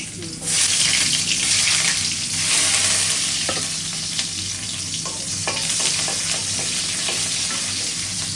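Onions go into a pan where small hilsa fish seasoned with turmeric and chili are frying, giving a loud, steady sizzle with occasional pops and clicks from stirring, and a faint voice in the background.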